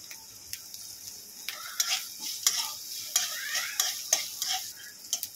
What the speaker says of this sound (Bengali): কাঁচা লঙ্কা দিয়ে দেবো, দিয়ে এটাকে ভেজে নেব।